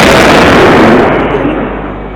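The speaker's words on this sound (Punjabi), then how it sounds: "ਟਾਇਰ ਫਟ ਗਿਆ" A single loud, close bang from a motorcycle tyre bursting while being inflated, followed by a rumbling roar that fades over two seconds.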